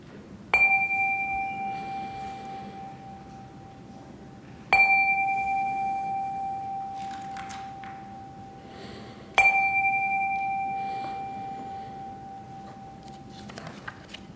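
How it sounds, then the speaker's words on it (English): A bright chime is struck three times, each tone ringing clearly and slowly fading over several seconds before the next strike, in a quiet room. "calm our hearts with the ringing of the chime"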